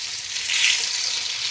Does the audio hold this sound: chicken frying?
yes